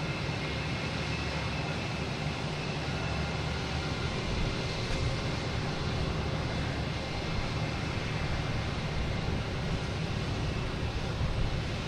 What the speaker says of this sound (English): We got a JetBlue pulling in, we got a Virgin Atlantic over here.